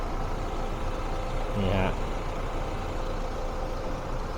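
A 2020 Toyota Majesty 2.8 SC Premium van engine idles with a steady, close, low drone. A brief, slightly louder burst rises near the middle, then the even hum continues.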